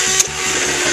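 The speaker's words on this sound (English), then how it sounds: "What we do is we give these a mix up first before we add our flavour, and for that we use we've got an automatic whisk" An automatic whisk whirs steadily through a batch of 60 broken eggs for boilie mix, making a loud continuous motor hum with a brief bump in the whine near the start.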